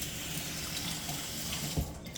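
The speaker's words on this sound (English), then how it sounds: "let me rinse that off my hands" Tap water runs steadily into a sink as hands are rinsed in a kitchen, a soft, continuous splashing hiss with one small splash near the end.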